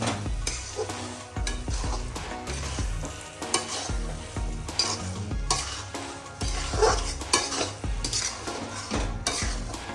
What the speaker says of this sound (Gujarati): તો થોડી વાર આ રીતે આપણે મિક્સ કરીશું જેથી કરીને આપણો દૂધીનો હલવો સંપૂર્ણ રીતે ચડી જાય અને બધું મિક્સ થઈ જાય